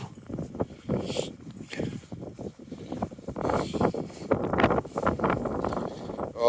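Gale-force wind on an open moorland walk, buffeting the microphone in irregular rumbling gusts that swell and fade, loud and close throughout.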